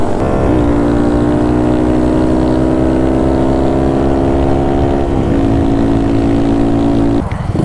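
A 181cc Honda Monkey and a 125cc Grom motorcycle at full throttle, loud close engine drone climbing steadily in pitch through the gears with a brief shift dip midway and a drop near the end.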